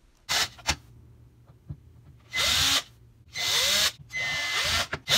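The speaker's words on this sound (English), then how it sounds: "Remove all the small screws." Small power screwdriver backing screws out of an electrical outlet faceplate, several loud whirring bursts with brief gaps and faint clicks between them, up close.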